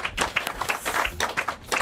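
Scattered clapping from a small studio audience on a football TV show, a few hands beating in an uneven, close rhythm for a couple of seconds.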